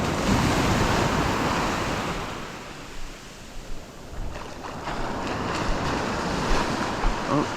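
Ocean surf breaking and washing up a beach where snook are being landed with a net, a steady close roar of waves with wind buffeting the microphone, swelling and easing without a pause.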